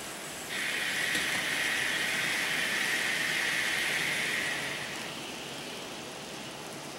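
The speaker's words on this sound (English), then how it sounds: "my Santa Fe reefer train is coming." An N scale model Santa Fe reefer train rolls steadily past on a layout with a rushing metallic hiss that swells, holds for several seconds, then fades as it moves away.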